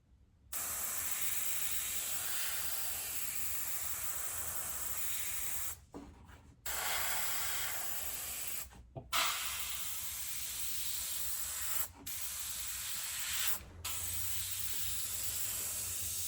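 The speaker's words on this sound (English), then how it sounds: "Do test spray, looking good." An airbrush test spray while painting a latex mask, heard as a steady close hiss of air and paint running for long stretches, broken by several brief pauses, with no voices.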